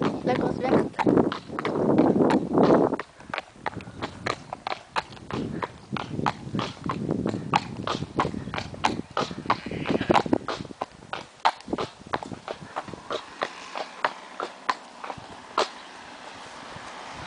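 Hooves clip-clop in a steady walking rhythm as a horse is ridden through the countryside around Quilly and Grivy, close and regular, with people talking over parts of it.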